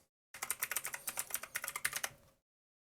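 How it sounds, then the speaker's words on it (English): Rapid, uneven keystrokes on a computer keyboard, close and clear, a steady burst of clicking lasting about two seconds with no talking. "glad you can hear me typing."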